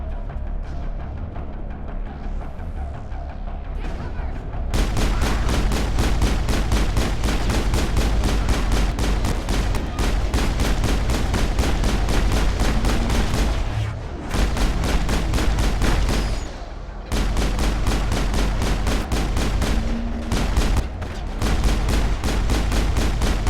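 Rapid automatic gunfire in the sci-fi video game Mass Effect, loud and nearly continuous sustained bursts with brief pauses, following a quieter opening.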